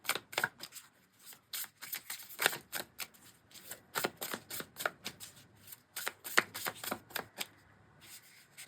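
An animal oracle card deck is shuffled by hand: quick, crisp riffling and clicking bursts in an uneven rhythm, close and fairly quiet, with no talking.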